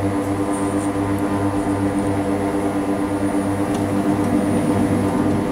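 An OV-10 Bronco in Microsoft Flight Simulator running at maximum continuous thrust, a loud steady turboprop drone with a low pulsing hum and high whine holding constant throughout, no voices.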